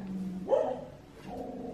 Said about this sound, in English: Oh, the dog is barking.